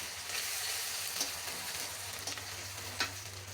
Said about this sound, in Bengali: এটা গরম হয়ে আসলে আমি দিয়ে দিব পেঁয়াজ